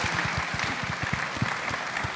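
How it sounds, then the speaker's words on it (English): Round of applause from an audience at a university family event, steady dense clapping with a distinct nearby clapper's rhythmic claps standing out. "Can we give them a huge round of applause?"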